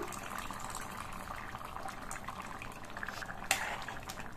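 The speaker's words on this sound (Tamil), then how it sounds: "குழம்பு 2 நிமிஷமா நல்லா கொதிச்சிட்டு இருக்கு." Brinjal curry with tamarind bubbling steadily in a pot, a continuous soft simmer with small pops and one sharper splat near the end.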